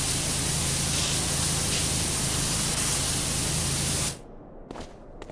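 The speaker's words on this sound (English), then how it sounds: "Spraying it randomly seems to have worked." Continuous broadband hiss of a pressure washer spraying in the video game PowerWash Simulator, steady and loud for about four seconds before cutting off, leaving a few short faint bursts.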